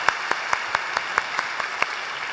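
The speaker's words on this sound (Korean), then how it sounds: "한번 크게 격려의 박수 한번 보내주시겠습니다" Applause from a church congregation, sharp claps landing in a fairly regular beat over a steady wash of clapping, moderately near with no speech.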